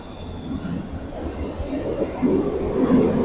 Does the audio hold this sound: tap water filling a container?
no